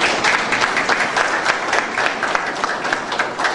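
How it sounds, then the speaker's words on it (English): Audience applause after a speech at a school of management: dense, steady clapping from a crowd, loud and continuous throughout with no voices standing out. "let's give a big round of applause to Arun and his team"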